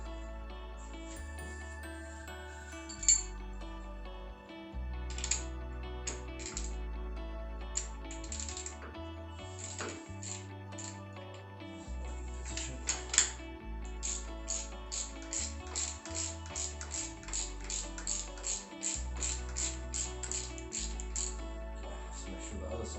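Socket wrench ratcheting on a nut of a BMW F650 GS motorcycle engine, a quick run of close, crisp clicking bursts that grows denser toward the end over a low hum.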